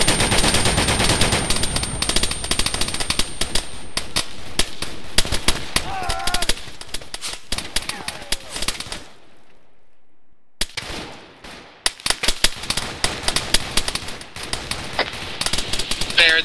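Rapid cannon fire from an aircraft in ARMA 3 during a Bundeswehr Fallschirmjäger mission, loud dense bursts of automatic shots filling most of the clip with a brief lull, with occasional radio-style voices.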